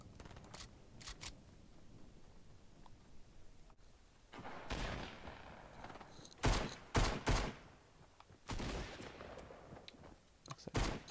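Gunfire from players fighting in Fortnite crackles in bursts, faint distant shots early giving way to louder, closer volleys and sharp single cracks in irregular clusters, with no talking.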